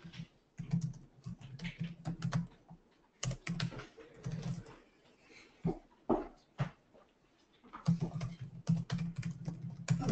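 Typing on a computer keyboard comes in quick bursts of key clicks separated by brief pauses, close and clear with no talking.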